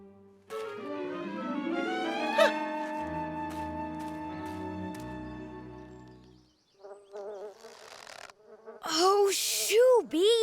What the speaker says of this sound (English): Oh, shoo, Bee. You don't want any of this taffy.